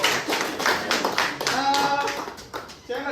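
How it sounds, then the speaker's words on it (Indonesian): Classroom clapping for a student named Yolanda during a lecture, with bursts of hand claps mixed with voices talking over them. "Tepuk tangan dulu untuk Yolanda sudah berani"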